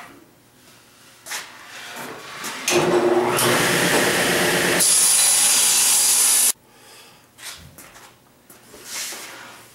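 A power saw rips a six-inch mahogany board into 2.5-inch strips for a garden bench, a loud sustained cutting roar of several seconds between quieter shop handling, knocks and shuffling.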